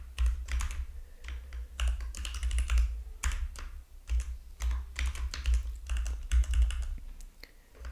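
Rapid, uneven clatter of typing on a computer keyboard while text is entered in the Neovim editor, close and dry, with short pauses between bursts and no talking.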